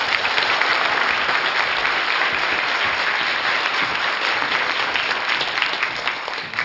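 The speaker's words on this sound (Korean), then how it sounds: "여러분 박수로 청해 주십시오." Sustained, dense applause from an audience at a Seosan city communication forum on Korean television, steady and loud for the whole stretch and slowly easing at the very end.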